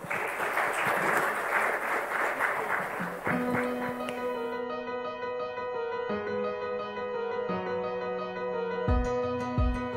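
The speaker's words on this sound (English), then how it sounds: "let's have a round of applause for Professor Sriram" Audience applause for Professor Sriram at a microfinance conference in Asia: a dense, steady wash of clapping for about three seconds that gives way to sustained musical tones continuing to the end.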